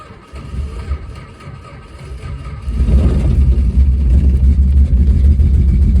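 A long-abandoned 1964 Plymouth Valiant convertible with a freshly refilled carburetor, its engine turning over and then running with a loud, rough, rumbling exhaust after a quieter start, close by.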